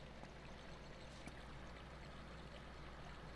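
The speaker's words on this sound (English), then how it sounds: "That's a pretty cool waterfall." Waterfall in the video game Uncharted 3, a constant low, faint rushing wash of falling water, steady and even throughout with no talk.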